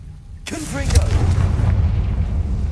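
Confringo fire spell blast in Hogwarts Legacy, a sudden loud whooshing burst that swells into a heavy, sustained explosive rumble, with a voice heard briefly alongside it.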